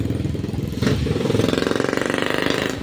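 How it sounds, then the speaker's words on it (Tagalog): A loud motorcycle engine putters past in a rapid, even throbbing beat that grows stronger partway through and stays close and prominent throughout. "Ay, ingay ng motor."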